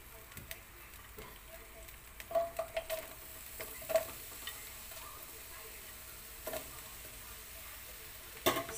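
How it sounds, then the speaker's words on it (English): Chopped onion fries in a tablespoon of oil in a pan for chicken fajitas, a faint, low sizzle broken by scattered soft clicks and spoon taps, a few of them louder, with no voices. "So first, let's cook our onion until translucent or like brown, change color."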